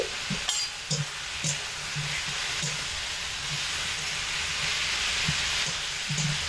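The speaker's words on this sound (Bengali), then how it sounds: "মোচা কষানোর সময় একটু সময় লাগে একটু ধৈর্য ধরে সময় ধরে মোচা কষাতে হয়" Banana flower sizzles in a pan with green chillies as it is sautéed, a steady hiss under repeated soft scraping and stirring knocks, close and moderately loud.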